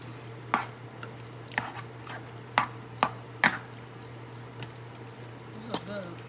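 Low carb chicken and broccoli alfredo is stirred in a pan: a series of soft, wet squelching taps from a spoon, close and fairly quiet over a low background hum.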